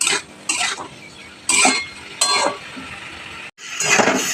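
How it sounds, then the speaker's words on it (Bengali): A spatula scrapes and stirs black mustard seeds with ginger paste and cumin paste in a pan during village home cooking for a Lakshmi puja. The scraping comes in several short, loud bursts with brief pauses between them, and no one speaks. "এবার একটু এটাকে অনেকক্ষণ ধরে নেড়ে নেবো"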